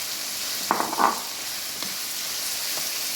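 Mushrooms drop into a pan of frying chicken and onions, giving a couple of soft thuds and a brief rise in the steady sizzle, then a few light scrapes over continuous quiet frying.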